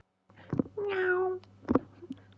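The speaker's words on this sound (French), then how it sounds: "Tout de suite, le bruit d'un félin," A cat meow sound effect: one clear, drawn-out falling meow between short soft thumps and clicks, fairly faint and with no talking.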